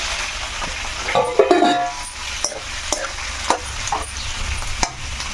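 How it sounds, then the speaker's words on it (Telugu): Tomatoes frying in a pan and being stirred for a tomato chutney, with scraping stirs and a soft sizzle close by, and sharp clicks of the utensil against the pan. "టమాటా కూడా వేసేస్తున్నాను. సరేనా? అన్నీ కలిపి మగ్గిపోతాయి."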